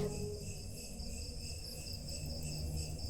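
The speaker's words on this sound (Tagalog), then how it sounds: "kuliglig" Steady, continuous cricket chirping fills the night air inside a building, a dense high trill that stays level throughout with a low background hum beneath.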